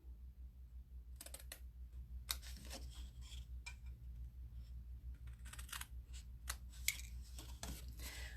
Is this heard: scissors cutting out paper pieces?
yes